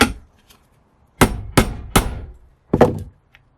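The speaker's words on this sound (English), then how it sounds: "Clamp that down a little better." Several sharp metallic-wooden knocks while a cash register part is clamped in a vise: one lone hit, a pause, then three quick strikes and a final double knock, close and loud in a quiet workshop.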